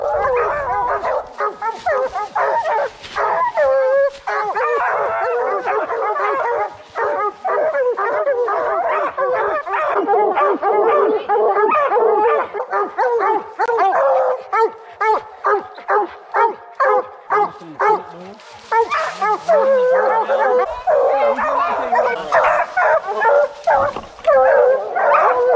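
Hunting dogs bay nonstop at a treed sow bear in the woods, a dense overlapping chorus of loud barks, yips and howls from several dogs close by that runs the whole way through without pause.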